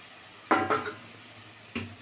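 A metal lid is lifted off a pan of shrimp and snake gourd frying: two close clanks, then a third, over a steady low sizzle.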